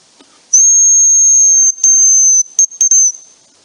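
A male hazel grouse calls: a very high, thin whistled note held for over a second, then repeated as a series of shorter high whistles, clear and fairly close, no voices.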